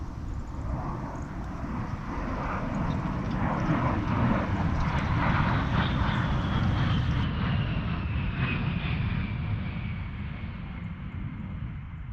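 An A-10 military jet flies over Ozark ridges. Its engine roar builds gradually to a broad, loud rumble in the middle and then slowly fades as it passes at a distance. No voices are heard.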